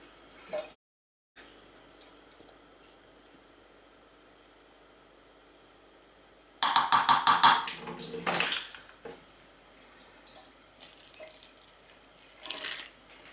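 Cold water from a kitchen tap splashes in a short burst while Trinidad dhalpuri roti dough is being made, with quiet room tone before and after and a faint clatter near the end.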